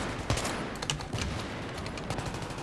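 Rapid bursts of Battlefield 3 multiplayer gunfire on PC crackle in quick volleys over a steady background hum, with a few sharper shots standing out.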